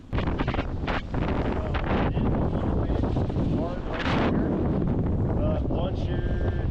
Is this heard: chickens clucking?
no